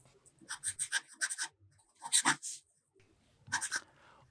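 A fountain pen loaded with Noodler's Pasternak ink scratches across paper in several short bursts of quick strokes separated by pauses, close and fairly quiet, with no talk.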